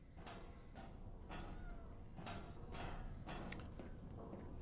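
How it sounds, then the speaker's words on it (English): A cat meows repeatedly in a steady, insistent run of short calls amid game background noise, fairly close and moderately loud. "I'm being meowed at by a cat"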